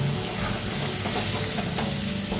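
Pointed gourd, ridge gourd and potato pieces hit hot spiced oil in a pan, giving a loud, continuous sizzle and hiss with some stirring, close by and without speech.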